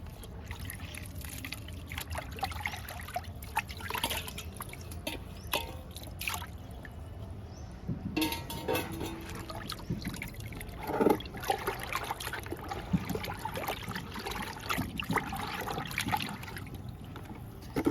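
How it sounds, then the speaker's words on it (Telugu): Orange peel paste being stirred into water to make a liquid feed for chrysanthemum plants, heard as faint, continuous sloshing and trickling with a few soft splashes. "కలుపుతున్నానండి వాటర్లో."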